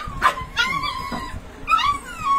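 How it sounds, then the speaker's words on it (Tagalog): Puppies at feeding time give high, wavering yips and whimpers in several short bursts, close and fairly loud, with a faint bark and dog noise beneath. "Ang maingay po yung mga tuta."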